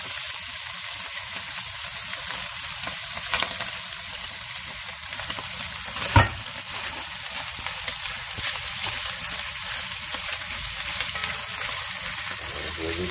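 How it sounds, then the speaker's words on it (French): Strips of conch (lambi) browning in oil in a cooking pot give a steady, soft frying sizzle throughout, with a single sharp clatter partway through and no talking. "Je vais les faire roussir bien comme il faut, les dorer."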